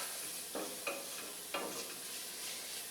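Oregano and cumin roasting in a pan for tortilla soup, a quiet steady sizzle broken by three soft stirring scrapes, with no speech.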